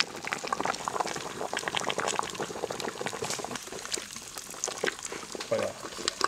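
Liquid boils in a pot for a wood-fired Mongolian cabbage horhog dish, with a dense, continuous bubbling and popping at close range throughout.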